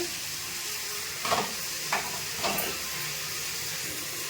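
Onions frying in hot oil, steady sizzling with a continuous hiss and a few brief louder crackles from stirring; no voices.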